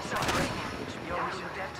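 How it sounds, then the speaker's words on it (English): Rapid bursts of distant gunfire crackle in Apex Legends, overlapping in a dense, steady volley over background noise. "I hear gunshots."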